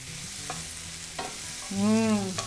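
Mushrooms and shallots sautéing in a pan with garlic, a soft sizzle under scraping stirs, with a brief pitched squeak near the end.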